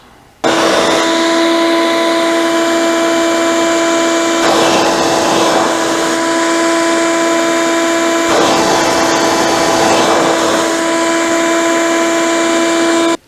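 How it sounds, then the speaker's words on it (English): A shop vacuum fitted with a homemade painted muffler starts up and runs steadily with a loud, even roar and a steady whine, then cuts off abruptly; no talk. "I got the muffler all painted and put together. Let's see if it works."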